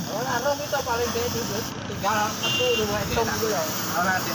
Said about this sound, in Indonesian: kita semprot clear seperti ini